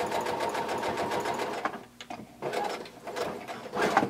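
A sewing machine stitches a sleeve seam on a blanket coat, running in close rapid bursts with a short pause midway and a final quick run, fairly loud.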